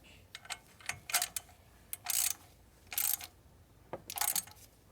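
Ratchet tightening thermostat housing bolts on a Mercedes Sprinter, producing quiet, close bursts of rapid clicking separated by short pauses, with no speech.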